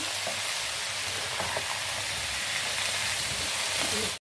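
Cauliflower pieces frying and being tossed in a pan, a dense, loud, continuous sizzle with faint scraping of the stirring, heard up close until it cuts off abruptly near the end.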